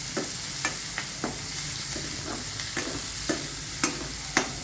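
Onion and green chilli frying in a pan for bitter gourd tamarind curry, a steady soft sizzle broken by regular spatula scrapes and taps about every half second, close up with no talking.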